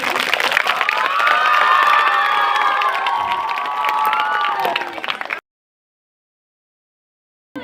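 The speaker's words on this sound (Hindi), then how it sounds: "तो एक बार फिर से तालियां बजा दो" A school annual day audience cheers and claps, with children shouting over dense, steady applause for about five seconds before it cuts to silence.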